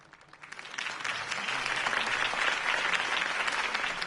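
Crowd applause from a video game, set in a city election campaign rally after a candidate's speech, rising within the first second into sustained, dense clapping that holds steady and fairly loud to the end.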